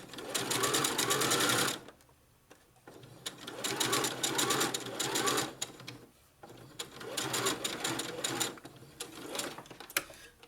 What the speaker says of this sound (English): I'm on the baby lock machine again. And I'm stitching in the bodice, which is the back piece of my dress.